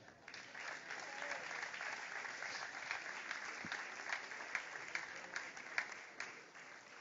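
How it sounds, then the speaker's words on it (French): Sustained applause from an audience at a sports awards ceremony honouring school athletes, a dense, steady wash of clapping heard from some distance that lasts throughout. "On peut les applaudir."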